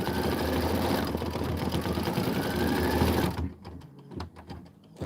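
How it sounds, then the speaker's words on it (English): An embroidery machine stitches a flower detail onto linen in a loud, dense mechanical rattle that stops abruptly partway through, leaving quieter clicks and handling sounds. "I just put in my linen. It's stitching out the flower detail"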